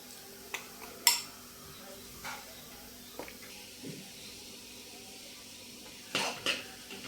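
A spoon scrapes and clinks against a pot as rice flour is stirred into boiling water for steamed modak dough, giving a few sharp metallic taps and soft scraping strokes over a faint background hiss.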